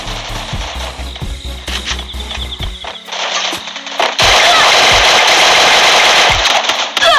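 Video game gunfire in Rampage Uprising mode rattles in rapid automatic bursts, then gives way to a loud, dense wall of continuous shooting and noise.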